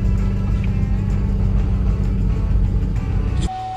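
A Ford Mustang engine held at full throttle while bogging, unable to climb past about 2,000 rpm in first, gives a loud, steady, low droning roar that drops away abruptly near the end.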